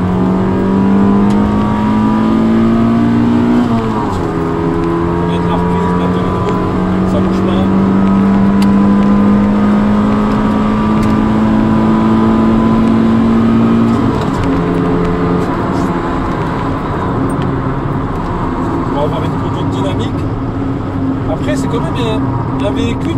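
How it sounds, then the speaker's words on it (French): A Honda Civic EC9 engine pulls strongly through second gear, its droning pitch rising steadily with a couple of brief dips, loud and continuous throughout. "Au niveau de la reprise, on va tester sur le deuxième."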